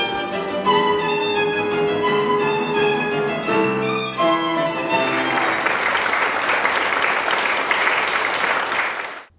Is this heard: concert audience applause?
yes